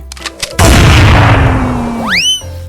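A loud blast erupts after a few shots, followed by a long rumbling decay and rising synthetic whooshes: video game gunfire and an explosion.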